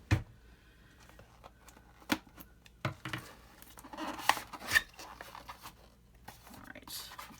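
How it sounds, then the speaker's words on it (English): Scissors snip and cut open a package from an art supply order, giving a scattered series of sharp, close snips and crinkles with quiet gaps between them. "I think I might need my scissors again to open that."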